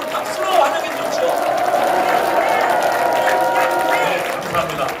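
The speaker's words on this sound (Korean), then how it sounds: "여러분, 박수로 환영해 주십시오." A crowd applauds and cheers to welcome candidates at a presidential campaign launch rally in Korea, a sustained wash of clapping with a voice speaking over it.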